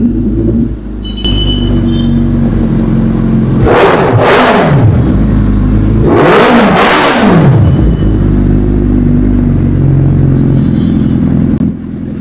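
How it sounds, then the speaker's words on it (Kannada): A 2018 Suzuki Hayabusa motorcycle in flawless condition idles loud and close with a steady deep rumble, then its exhaust note surges through two sharp revs that rise and fall before settling back to idle. "ಎಕ್ಸಾಸ್ಟ್ ನೋಟು ನೀವು ಕೇಳ್ಬೋದು."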